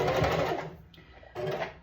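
A sewing machine runs in two quick bursts of stitching on a cocoon blanket with ribbon trim, loud and close, a brief pause between the runs.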